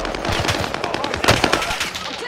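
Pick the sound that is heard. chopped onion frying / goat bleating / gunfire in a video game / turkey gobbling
gunfire in a video game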